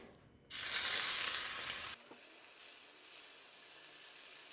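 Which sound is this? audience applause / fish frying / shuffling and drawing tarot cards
fish frying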